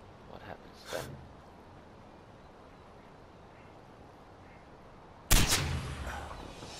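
Sniper rifle fire in the game Far Cry 4, with a faint shot early on and a single loud, sharp crack near the end that rings out briefly, over a quiet background.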